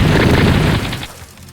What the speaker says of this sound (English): I just love the gunshot sound on my soundboard.